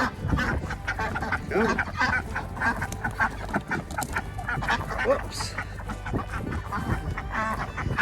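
A flock of ducks quacks and honks continuously while being herded into a fenced area outdoors, a man calling to them now and then over the steady birdsong.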